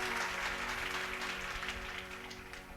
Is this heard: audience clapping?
yes